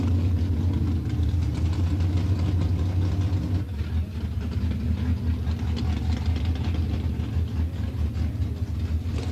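Dodge pro stock drag racing cars idling at a drag racing nationals event, a steady deep engine rumble held throughout at close range, dipping slightly partway through.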